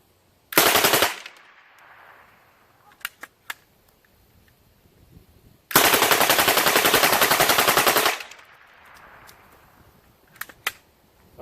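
A Lage Max 11 paintball marker fires rapidly without spacers in two fast, loud bursts of rattling shots, the second lasting over two seconds, with a few isolated single clicks and pops between them outdoors.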